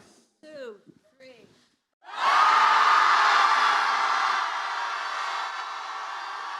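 An audience at a reading event breaks into loud, sustained group screaming that holds steady for several seconds. A few brief spoken words come just before it.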